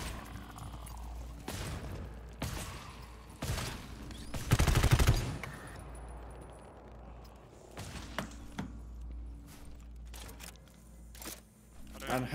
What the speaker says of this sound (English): I'm killing this, shooting this one.